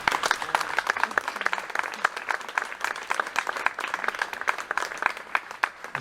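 An audience at a book presentation applauds warmly: dense, steady clapping from many hands fills the room without letup.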